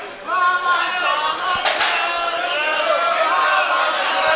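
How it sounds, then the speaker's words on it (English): A wrestling crowd in an arena in the Bronx makes a steady, loud murmur of cheering and chatter, with a couple of sharp impacts in the middle. "And you hear the crowd here in the Bronx."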